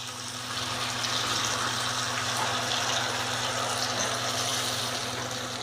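Au jus mix streams steadily from a container into a cooking pan, a continuous soft liquid gush lasting several seconds over a low kitchen hum.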